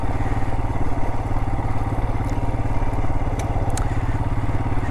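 A motorcycle engine labours steadily through thick sand on a canyon jeep trail in Pinkham Canyon, Joshua Tree, a close, loud, pulsing drone with a few brief clicks and clatters over it.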